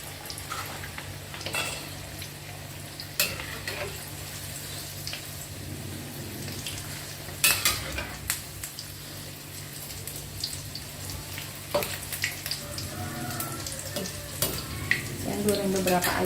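Soft milk tofu frying in a pan sizzles steadily, with sharp spattering crackles and clinks of stirring, plus some running water nearby, all fairly quiet and close.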